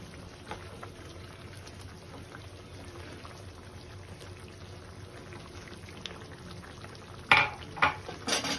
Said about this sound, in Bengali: আর একটু গরম জল দিচ্ছি, কারণ মাছটা তো একটু সিদ্ধ হবে